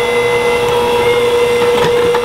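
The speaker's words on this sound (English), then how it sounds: "Now we need the hand mixer." An electric hand mixer beats cookie dough, producing a loud, steady motor whine with a constant pitch and faint rattling against the bowl, close-up and continuous without speech.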